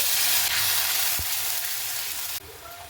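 Whole cumin, clove and cinnamon sizzling in hot oil for a soybean dish, a dense, even, close hiss with a brief clack of a utensil partway through.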